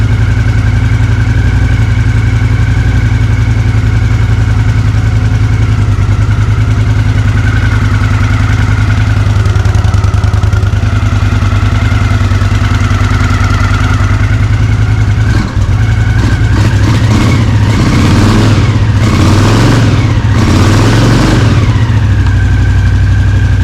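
A Honda CX500 motorcycle engine idles loudly and steadily up close for about fifteen seconds, then is blipped through several quick revs that rise and fall, with no talk.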